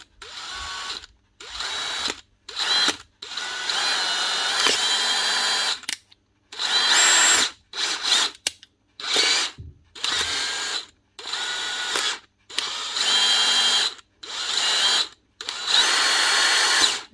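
Faulty DeWalt drill that switches direction unpredictably, running in repeated short bursts of a whirring motor with brief pauses between each trigger pull, loud and close with no talk.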